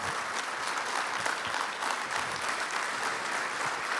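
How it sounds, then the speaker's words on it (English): Applause at an awards night, with a full audience clapping loudly and evenly. The crisp, dense patter holds steady throughout and no voices rise above it. "Big round of applause for Mr."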